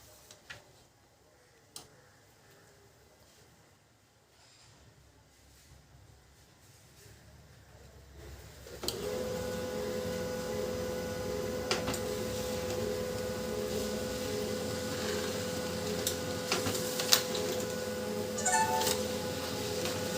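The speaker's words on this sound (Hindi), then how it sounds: "तो फिर से एक और प्रिंट करता हूँ।" A Canon LBP2900 laser printer that makes a loud noise while printing runs a page: after a quiet stretch with a faint click, a steady mechanical whir with rapid ticking and clatter starts and carries on close to the end.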